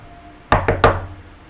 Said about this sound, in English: We should probably knock though, right?